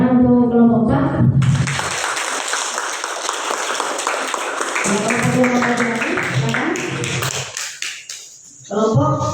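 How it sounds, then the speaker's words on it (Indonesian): Brief burst of classroom applause for a student group during a teacher-training session, clapping in the middle stretch between stretches of talking. "Tepuk tangan untuk kelompok 4."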